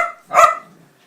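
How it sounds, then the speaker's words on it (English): A single sharp dog bark rings out close by, loud and short, then fades quickly into quiet. "these dogs are driving me insane today. They're so barky today."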